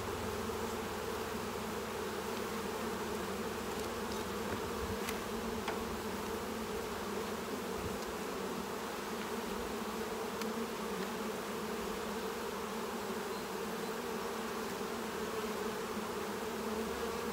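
Honey bees from a Saskatraz colony drone steadily and densely around a hive frame, a continuous close buzz without pauses.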